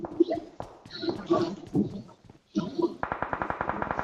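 Rapid automatic gunfire in a multiplayer shooter video game, a fast burst of regular shots near the end, following voices talking over the game audio.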